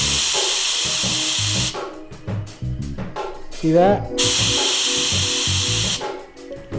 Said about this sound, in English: We're spraying some Wet Plus on a 1964 Cub Cadet 100 made by International Harvester.